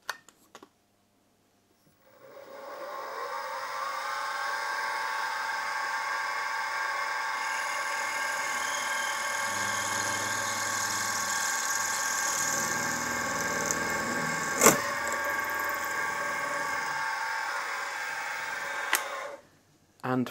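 A 6mm stub drill cuts into a steam engine crosshead with a steady, humming machine whine that runs for about seventeen seconds, with one sharp click partway through, before winding down.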